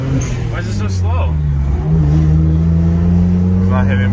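A crashed BMW 135i with a suspected fault that keeps it from reaching boost accelerates, its engine drone rising steadily and loud from inside the cabin, with a brief voice early on.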